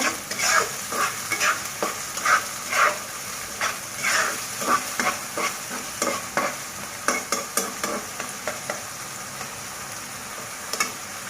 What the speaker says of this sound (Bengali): আরও 1 মিনিটের মতো আমি পেঁয়াজটা কষিয়ে নেব